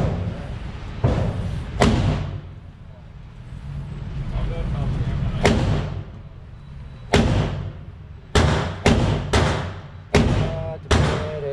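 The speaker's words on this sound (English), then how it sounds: "This is this monster. Let's see the shots." A Magnum Research Desert Eagle .44 Magnum pistol with a 6-inch barrel fires about ten sharp, loud shots at a range, first spaced widely, then in a quicker string near the end, with steady background noise between.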